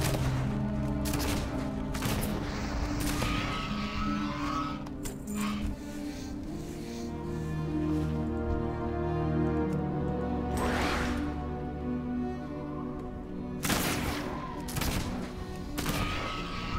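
Rapid gunfire bursts from a triple shot in the video game World of Warcraft crackle in clusters, several early and a couple more near the end, layered over busy, continuous game music and ambient sound.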